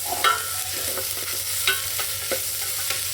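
Field beans (avarekalu) go into a hot frying pan and get stirred, with loud sizzling broken by a few sharp scrapes and clacks of the spatula against the pan, close up and with no voices.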